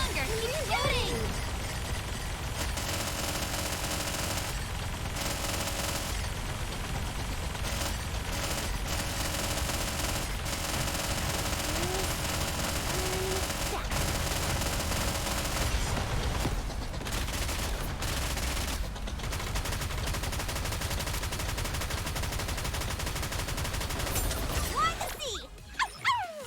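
Continuous automatic gunfire in Nikke: Goddess of Victory, a long unbroken rattle of shots with brief pauses, layered under game effects and a talking voice.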